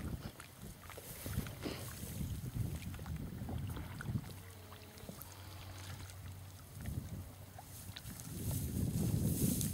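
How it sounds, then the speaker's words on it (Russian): Wind gusting over a river with a boat on the water, steady buffeting rumble against the microphone, easing midway and then rising louder toward the end. "Ветер."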